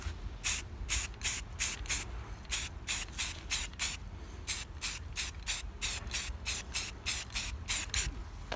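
Model railroad bridge piers get sprayed gray with a spray can in a long series of short, close bursts of hiss, about twenty quick even puffs with brief gaps between them.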